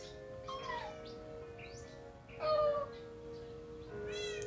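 Several cats meow in short, rising and falling calls in Minecraft over a steady electronic hum, with a faint chirpy tone mixed in.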